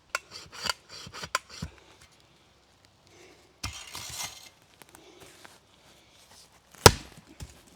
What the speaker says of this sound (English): I had tried cutting one of the stumps that was in the way of a layout line with my folding bow saw